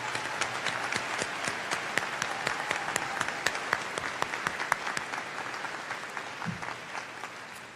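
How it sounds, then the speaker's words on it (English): Steady applause from an audience at a 2023 high school graduation ceremony, with dense, even clapping that holds for several seconds and fills the space without voices. "Let's give them a round of applause for their incredible support."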